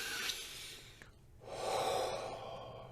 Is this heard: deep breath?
yes